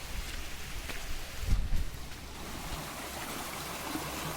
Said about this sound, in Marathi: ह्या मोरीला किती पाणी येते बघा